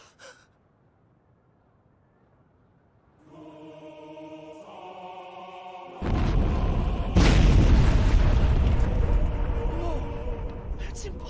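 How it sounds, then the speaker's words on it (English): A sudden loud explosion in the anime Attack on Titan, a deep booming blast that bursts in after quiet sustained tones and rumbles on, with gasps and breathy vocal reactions. "Some kind of explosion, or...?"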